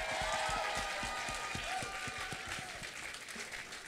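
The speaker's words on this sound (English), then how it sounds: "Can we have a final round of applause for all the musicians of Walthamstow Academy?" Applause from the audience at a school end-of-year concert for the student musicians, loud clapping with a few sharper claps near the front that slowly eases off, while voices and cheers carry underneath.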